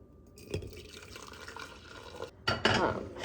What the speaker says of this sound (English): I'm gonna pour my milk in here.